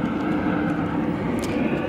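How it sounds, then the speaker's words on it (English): Loud, steady roar of an airplane passing overhead, heard outdoors among hurricane damage, a broad continuous rumble with no talk over it. "It's a loud plane."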